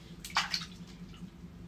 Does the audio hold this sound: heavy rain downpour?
no